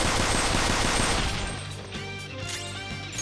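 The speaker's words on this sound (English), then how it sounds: "Gunshots won't work, so try something else." Rapid gunfire crackles loudly in battle in the video game Persona 5 Royal, a dense burst that tails off into ringing, chiming game effects.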